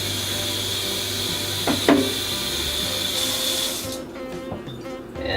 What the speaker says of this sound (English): rinse it with water.